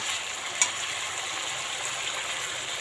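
Jackfruit seeds and ridge gourd fry in a pan for a mustard-flavoured chachchari, giving a faint, even hiss with one small clink early on and no voices.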